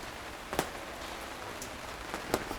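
Heavy rain beginning to pour outside a hostel on Spain's north coast, a steady dense hiss of drops with a couple of brief louder splashes standing out against the constant wash.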